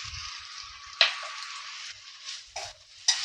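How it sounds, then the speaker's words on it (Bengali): Upma vegetables, potato and carrot, fry with garam masala in a pan, giving a bright continuous sizzle punctuated by several sudden louder spatters and utensil clicks. "দিয়ে আমি ভালো করে একটু ভেজে নেব।"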